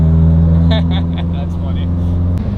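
Steady low engine drone from a Subaru STI being driven, with a constant rumble filling the low end throughout and a few voices talking over it.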